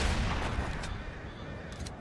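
A marksman pistol shot fires in the GTA V video game, a single loud blast at the very start followed by a long, fading reverberant tail, with no voice heard.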